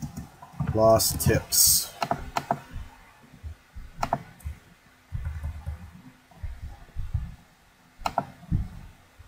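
Computer keyboard typing in close, quick bursts of light clicks and taps, broken up by someone talking over them.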